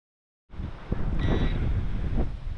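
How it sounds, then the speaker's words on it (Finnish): Strong wind gusting across a microphone outdoors beside a field, a loud continuous rumbling roar that kicks in abruptly after a moment of silence and buffets steadily. "Melkoinen on tuuli"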